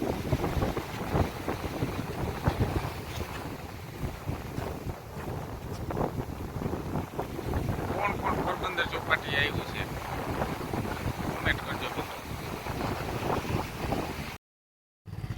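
Boat ride out at sea beside the Porbandar jetty in Gujarat, with steady wind buffeting the microphone over the engine and water noise throughout, before a brief cut to silence near the end.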